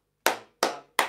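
Three crisp, close hand claps in steady rhythm, each sharp attack decaying quickly into silence, part of a beginner body percussion call-and-response.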